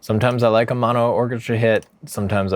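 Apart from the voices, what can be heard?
No everyday noises stand out.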